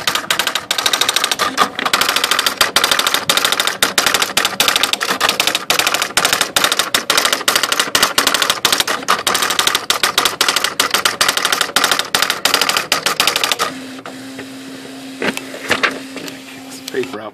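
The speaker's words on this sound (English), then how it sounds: "and the machine is going to start printing" A Brother WP-55 word processor, apparently a 1988 model, prints with rapid, loud typewriter-like hammering that runs nonstop for about thirteen seconds, then cuts off, leaving a low mechanical hum and a few faint clicks.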